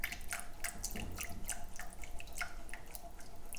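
A whisk stirs a cornstarch-and-water slurry into a simmering sauce for Korean chicken wings. The quiet, wet clicking and sloshing taps repeat steadily and sound close.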